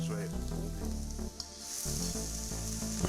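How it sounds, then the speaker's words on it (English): Carrot fried in a pan for fried rice with egg and chicken, a soft, steady sizzle under louder background music. "And then I add the carrot."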